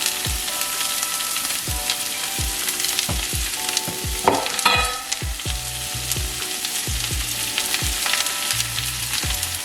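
Garlic, carrots and onions fry in a pan with a constant bright sizzle, while repeated thuds and scrapes of stirring sound close by and music plays in the background.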